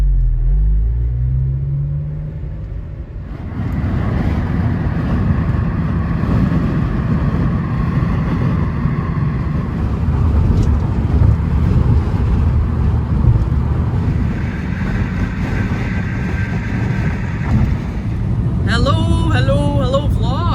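A car interior on the move carries a steady low road rumble and engine drone throughout, with a brief quieter stretch at the start and a faint higher whine and short squeaky sounds near the end.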